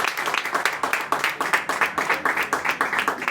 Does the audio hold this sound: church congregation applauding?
yes